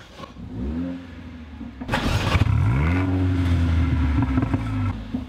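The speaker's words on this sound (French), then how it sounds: "Et là on va pouvoir démarrer le moteur." A Mercedes A45 AMG engine cranks and starts with a loud burst, then revs up and settles into a strong, rising and falling rumble, heard close and alone.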